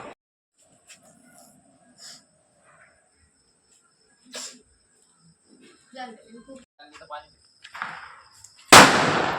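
Quiet scattered voices and small noises at a train station, then a loud, sharp firecracker burst near the end that leaves a noisy rush.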